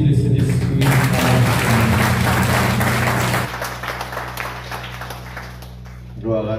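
A church congregation claps for the Holy Spirit during a Sunday worship service, a dense burst of applause mixed with sustained music and voices that fades after a few seconds into softer talk and tones.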